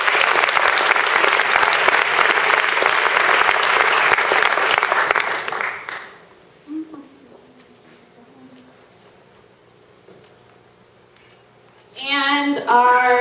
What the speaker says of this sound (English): Round of applause for our sponsors.